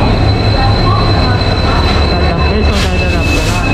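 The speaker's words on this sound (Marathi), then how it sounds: "आपली फायनली ट्रेन आली आहे" A Konkan Railway train pulls into a station platform at Thane, Mumbai. A loud, continuous rumble of rolling wagons comes with faint wheel squeal and a background murmur of people.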